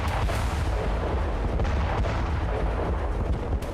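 Heavy tank fire from ground forces assaulting Hamas positions in Khan Younis, Gaza, a dense continuous roar of booming blasts and gunfire with no pauses, loud and close throughout.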